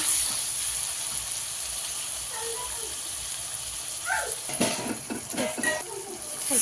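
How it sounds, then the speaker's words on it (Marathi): Cooked pav bhaji vegetables being stirred in a pan, with a steady steamy hiss throughout and a cluster of scraping, clattering stirs near the end, fairly close. "हलवून घेऊया सगळ्या भाजी"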